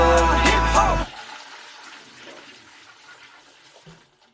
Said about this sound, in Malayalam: ഓ ഫ്ലഷ് അടിച്ച് കളഞ്ഞു ലാസ്റ്റ്